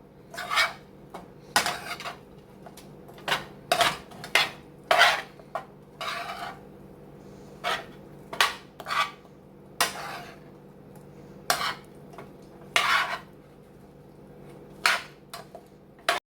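Repeated clinks and scrapes of a utensil tossing and mixing tater tot casserole ingredients in a dish, arriving in irregular close bursts with quiet gaps between them, no talking.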